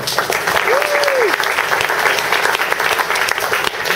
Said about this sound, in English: I just want to give a great big round of applause again to Hector Castro.